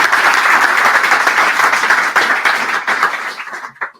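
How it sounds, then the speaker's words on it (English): A conference audience at Django Day Copenhagen 2022 applauds a speaker, loud, full clapping from many hands that stays dense for about three seconds, then thins to a few last claps. "I think we should give him a very warm applause"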